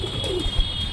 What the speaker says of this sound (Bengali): এটা তো আমাদের সবুজ পায়রা